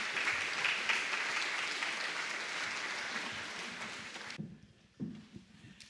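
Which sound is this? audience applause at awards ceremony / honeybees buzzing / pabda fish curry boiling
audience applause at awards ceremony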